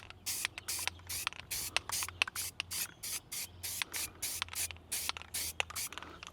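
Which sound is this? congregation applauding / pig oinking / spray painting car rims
spray painting car rims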